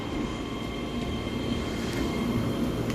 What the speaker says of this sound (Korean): 우리가 타고 왔던 열차는 안녕